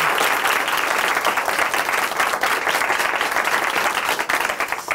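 Audience members at a Christian testimony program clap to cheer on a church sister, a loud, continuous wash of many hands applauding evenly throughout with no pauses.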